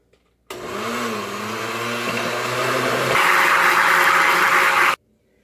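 Blender running loud and steady, mixing a healthy cheesecake filling, its motor pitch shifting and the whir brightening partway through before cutting off abruptly after about four and a half seconds.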